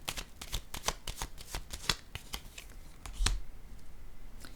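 Tarot-style cards are shuffled and handled during a card reading, with a quick run of crisp riffling flicks and taps close up, then a softer pause near the end.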